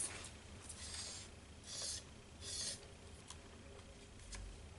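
Embossing paste is scraped across a stencil in a few soft, gritty strokes, each a brief rasp close to the microphone, separated by near silence.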